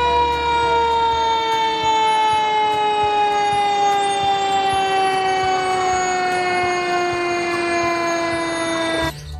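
A toy fire truck siren wails steadily with a layered electronic tone, continuous and fairly loud for the whole stretch before cutting off abruptly at the end.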